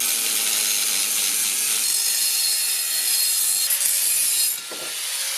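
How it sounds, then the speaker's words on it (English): An angle grinder cuts through metal intercooler J-pipe, a loud continuous high-pitched grinding whine held steadily close by, briefly dipping near the end as the cut finishes. "I have to cut it with an angle grinder"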